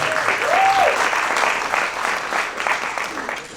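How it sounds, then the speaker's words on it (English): Audience applause for a theatre cast after the performers are introduced, a steady dense wash of many hands clapping that swells early and slowly tapers off. "Please give them a warm round of applause."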